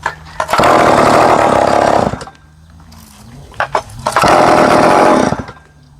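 A chainsaw roars loudly through wood in two long bursts, dropping to a quieter idle between cuts.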